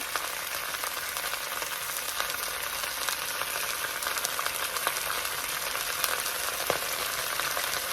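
Chopped onions fry in a pot of oil for a beef stew or goulash, giving a steady, even sizzle and hiss that runs unbroken throughout with no talking.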